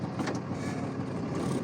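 A truck's small Cummins engine labors steadily while pulling against the trailer brake during an in-cab inspection, a continuous low rumble and drone held close and even throughout.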